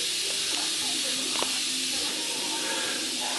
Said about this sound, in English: we'll let some pressure off that pressure cooker